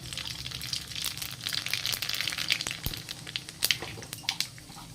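Nigella seeds dropped into hot mustard oil crackle and spit in scattered sharp pops against a low sizzle, growing busier toward the end.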